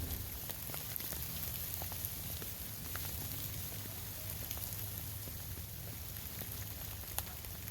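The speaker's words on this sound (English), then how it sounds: "We've got some freezing rain coming down." Freezing rain falls steadily on camping tents on a 25-degree winter day in North Carolina, a dense, even patter with occasional sharper drop ticks that carries on without pause.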